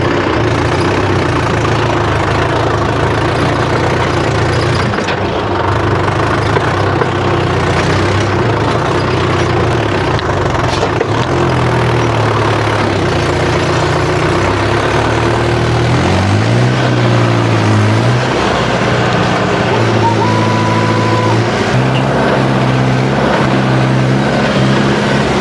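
A JCB and a tractor run together with a loud, continuous diesel drone near the microphone, holding steady with a few rising and falling revs partway through.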